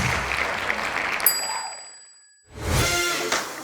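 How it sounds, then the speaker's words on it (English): Audience applause at a one-day business seminar, opening with a bright ringing chime, then a brief lull before a full burst of clapping swells up nearby and carries on to the end. "let's give them a round of applause"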